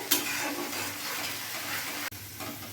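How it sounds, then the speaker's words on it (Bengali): Masala sautés in a pan with a splash of water while it is stirred, the base for a Bengali-style yogurt rohu fish curry, a moderate bubbling sizzle with scraping and a brief knock near the end. "সামান্য একটু জল অ্যাড করব মশলাটা কিছুক্ষণ কষিয়ে নেব যেন কোনো কাঁচা গন্ধ না থাকে"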